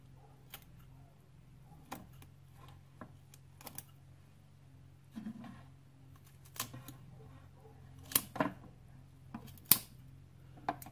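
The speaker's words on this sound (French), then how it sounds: "je vais découper l'opercule." Scissors snip through the gill cover of a fish during an anatomy dissection. The cuts come as sparse, sharp little clicks spread over several seconds, close and quiet against a faint steady room hum.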